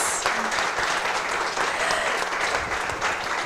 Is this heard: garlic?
no